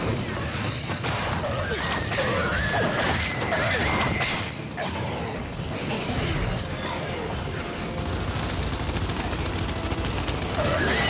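Gunfire in the video game Gears 5 rattles almost continuously across the clip as dense, overlapping bursts of rapid shots with crashes and impacts, loud and busy throughout with no pauses.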